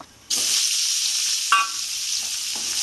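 Potato fries in a little oil with turmeric, a bright steady hissing sizzle that starts suddenly, with a sharper crackle burst midway, close and loud.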